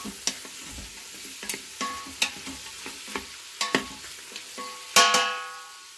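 Spoon stirring red beans and rice inside an Instant Pot, a series of scattered clinks and scrapes against the pot with a faint sizzle underneath, close and fairly quiet, no talking.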